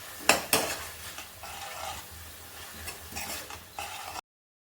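Vegetables for pav bhaji are being sautéed in a pan, with a spoon scraping and clinking against the metal over a soft sizzle and a couple of sharper knocks early on.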